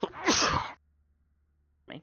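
A single abrupt sneeze bursts out close to the microphone and is followed by silence and a brief spoken word at the end.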